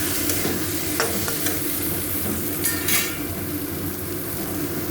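Spices and potatoes fry in a pan while being stirred, a steady sizzle close up with scraping strokes and a few sharp metallic clinks.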